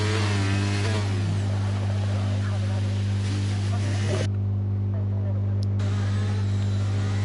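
Racing car engine in the Hungary round of a racing video game as a McLaren pulls into the pits: a steady, droning hum running unbroken through the whole stretch, with a brief drop in the upper hiss partway through.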